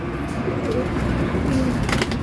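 Gajra pigeons, a Hyderabadi flying breed, coo softly and continuously close by against a steady background hum, with faint murmuring talk in the distance.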